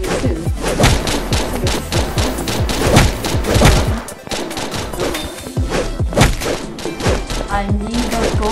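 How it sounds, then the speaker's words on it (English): Rapid video-game gunfire crackles through a Season 6 skin challenge match, dense bursts and sharp thuds firing almost nonstop with short pauses, loud and close, while a player talks over the action. "He's trying to shoot me."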